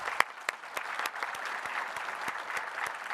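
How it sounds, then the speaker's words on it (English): Audience at a transit authority's annual general meeting applauding to welcome a guest in a vintage uniform: sparse, moderately distant clapping from a modest crowd with a few sharper individual claps standing out, no voices. "so please give him a big round of applause."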